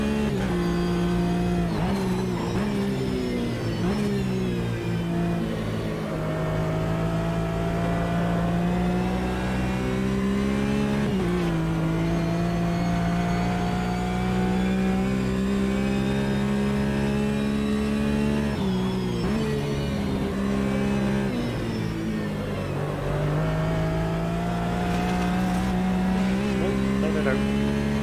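GT and Cup race car engines in Automobilista 2 on a rain-wet track, a loud, steady engine whine that rises and drops through gear changes, with voices talking over it.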